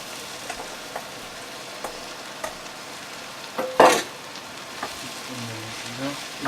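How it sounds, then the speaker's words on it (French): Parsnip is stirred into onions sautéing in a saucepan, giving a soft continuous sizzle broken by light scraping stirs and one sharper clatter partway through, with no talking. "une fois que les oignons sont revenus dans la casserole, on va pouvoir rajouter le panais pour commencer la cuisson"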